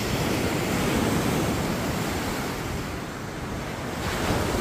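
Waves surf steadily onto Agate Beach along Michigan's Lake Superior shore, a loud, continuous wash of water mixed with wind buffeting the microphone, with no voices.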